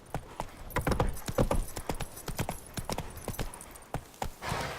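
Roach the horse from The Witcher 3 clip-clops along with sharp, close hoof strikes in an uneven trotting rhythm for several seconds, ending in a brief softer rustle.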